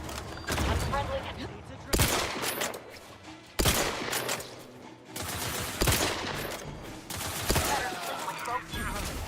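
Gunfire in The Outer Worlds 2 video game: sharp, loud bursts and single shots cracking out every second or two, with rapid fusillades between them and brief pauses.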